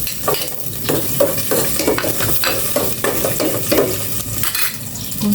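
Garlic sautés in hot cooking oil with a loud, close sizzle, broken up by repeated stirring scrapes of a utensil against the pan, with no talking.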